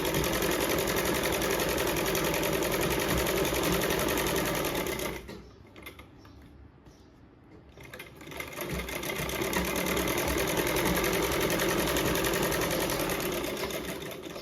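A sewing machine stitches a sleeve edge in two long, steady, loud runs separated by a brief pause of a couple of seconds, with no voices.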